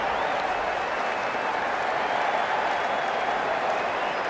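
Cricket crowd at a Sri Lanka versus Ireland Test match cheering and applauding steadily throughout, a dense continuous roar of clapping and voices with a faint high whistle-like tone.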